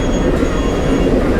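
Interior rumble of a MEMU local train running from Bengaluru to Mysuru at night, a loud, steady low roar of wheels and carriage noise throughout, with no talking.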